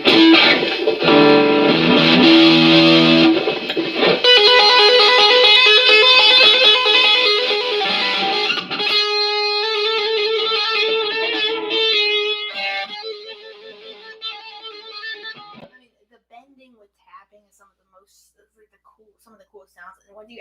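A distorted electric guitar plays fast tapped notes and ringing harmonics, loud at first then fading away to near silence.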